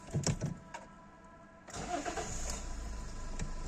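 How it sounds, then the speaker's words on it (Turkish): A 2012 Toyota Corolla with a 1.4 diesel engine cranks briefly and catches, then settles into a steady close-up idle with a low, even rumble and no talking. "Aracımızı da çalıştıralım."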